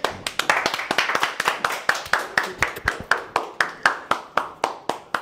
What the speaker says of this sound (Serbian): Sad tapšite!